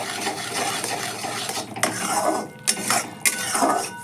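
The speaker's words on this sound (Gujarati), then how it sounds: "ધીમા ઓલે હલાવતું જવાનું અને જોતું જવાનું." A spoon stirs puda batter in a pan over a low gas flame, giving a steady close scraping and soft sizzle, with three sharper strokes against the pan in the second half and no one talking.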